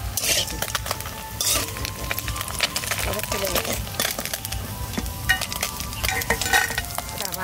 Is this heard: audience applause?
no